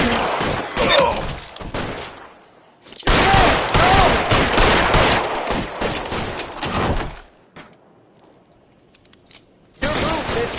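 Gunfight in the video game L.A. Noire, with loud, close bursts of rapid shots and heavy impacts in two long volleys, a quieter lull, then another burst at the end, with voices briefly audible in between.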